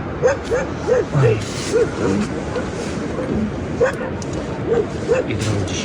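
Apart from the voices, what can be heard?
many village dogs barking at night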